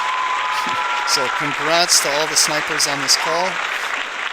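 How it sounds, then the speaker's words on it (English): Applause sound effect played over a trading livestream, a broadband clapping wash running steadily throughout while someone talks over it. "But I got you guys an applause."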